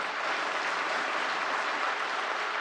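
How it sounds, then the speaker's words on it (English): A ceremony audience at Civil Accounts Day celebrations in New Delhi gives a dense, even wash of applause, sustained and uniform throughout, like a large hall clapping together. "Can we please have one last resounding round of applause for our esteemed guests?"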